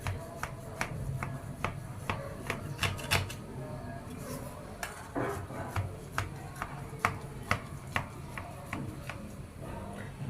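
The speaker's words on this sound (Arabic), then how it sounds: "نقطع البسبوسه مع بعض" A knife cuts through baked basbousa semolina cake in its baking tray, giving close, sharp clicks and taps against the tray in an irregular rhythm, with no one talking.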